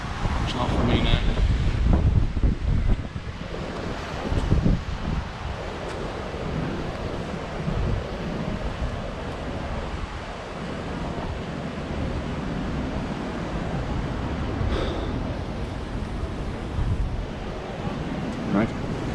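Surf rolls and breaks along the beach at Cala Rajada in Mallorca, a continuous rushing wash with wind buffeting the microphone and swells rising and falling at intervals.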